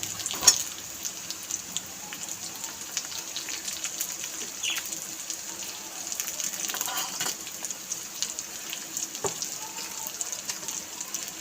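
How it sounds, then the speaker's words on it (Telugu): Green chillies fry in a pan with a steady, soft crackling sizzle throughout, punctuated by a few sharper pops and clicks. "ఇప్పుడు పచ్చిమిర్చి వేసాను."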